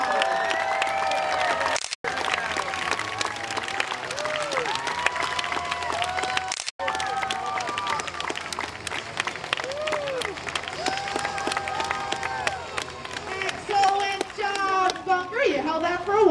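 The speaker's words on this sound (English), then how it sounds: "make sure to put your hands together to cheer her on" Audience applause and cheering fill the stands at a sea lion show at the Atlantis Long Island Aquarium, steady and loud throughout, with crowd chatter, children's voices and an announcer talking over it.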